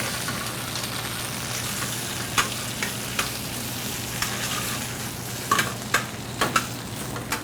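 A splash of white wine hits a hot pan to wilt greens alongside a rosemary rack of lamb, giving a steady close sizzle broken by a few light utensil clinks and scrapes, with no talking.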